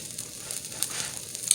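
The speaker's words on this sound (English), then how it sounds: "Frying up some corn tortillas" Corn tortillas sizzle and fry over an open fire in a brief, steady crackling hiss with a couple of sharper pops, heard up close.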